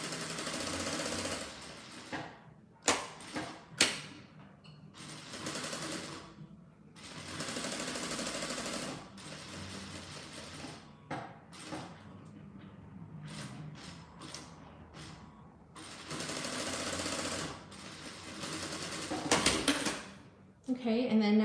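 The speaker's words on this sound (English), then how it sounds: "So I'm going to sew all the way around." A sewing machine stitches a seam around fabric for a squeeze pouch, running in repeated bursts of rapid mechanical whirring separated by short pauses and handling noises.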